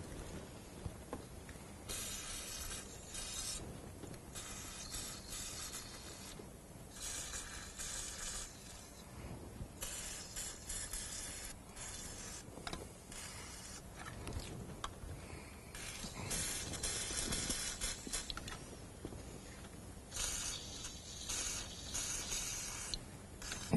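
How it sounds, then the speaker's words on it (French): Penetrating oil is sprayed around a glow plug on a VW Golf IV TDI engine, a series of quiet hissing aerosol bursts of varying length repeating over about twenty seconds, faint and close. "nous allons mettre un peu de dégrippant autour de la bougie pour faciliter le démontage"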